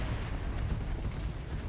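Ship cannons firing in the StarSector space combat game, a dense continuous rumble of booming shots with no clear gaps, loud and steady throughout.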